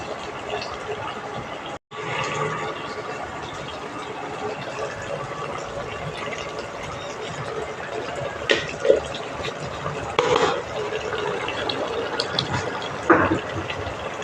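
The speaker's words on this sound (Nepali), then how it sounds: "पहिला अलिकति पानी हाल्यो" Water is poured into a cooking pot while buff curry is prepared, a steady splashing and filling sound over continuous kitchen background noise, with a few sharper clinks later.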